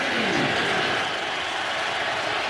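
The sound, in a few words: stadium crowd cheering at Raiders-Redskins football game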